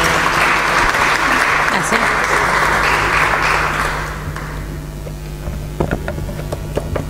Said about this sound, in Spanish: Recibimos con un fuerte aplauso a Molinos del Viento.